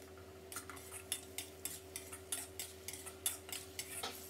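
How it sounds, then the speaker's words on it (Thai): A spatula taps and scrapes steadily against a pan as seasonings, oyster sauce and water are stir-fried together, a regular rhythm of close clinks over a faint background hum. "แล้วก็ให้เราผัดให้เข้ากันนะครับผัดให้เครื่องปรุงละลายเข้ากันเลยครับ"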